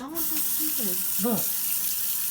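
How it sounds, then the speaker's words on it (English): Hot water gushing steadily from a kitchen tap into a plugged sink, a loud continuous hiss while people talk over it. "You put a plug in the sink and you turn the hot water on."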